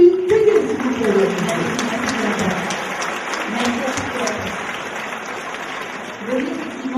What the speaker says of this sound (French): Un applaudissement pour Sylvie Keguet, s'il vous plaît.